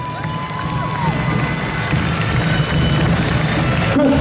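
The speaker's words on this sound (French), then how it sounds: "Un peu d'applaudissement pour Marissa Coste dans la Reine Louve." An audience at a cosplay costume contest claps and cheers in a steady, fairly loud wash of applause, with a few whistles and voices mixed in.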